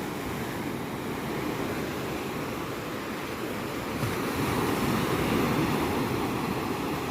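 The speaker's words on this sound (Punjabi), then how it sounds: "ਸਮੁੰਦਰ ਦੇ ਚਲਕਾਰੇ" Sea waves break on Miramar Beach in Panaji, Goa, making a continuous broadband roar and wash that swells a little louder in the second half, with some wind on the microphone.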